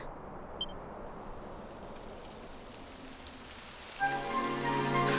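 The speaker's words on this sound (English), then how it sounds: "It would have to go and start raining, wouldn't it?" Steady hiss of rain falling in the fantasy role-playing game Dragon Quest XI S, a soft continuous wash that swells louder and brighter near the end as a sustained musical tone enters underneath.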